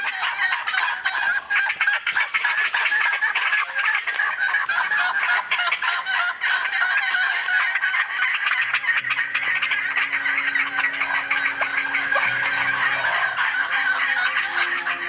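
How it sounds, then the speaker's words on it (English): Loud, continuous fowl calling with overlapping gobbles, clucks and squawks from a flock, steady throughout with no voices. "Can you hear the turkeys?"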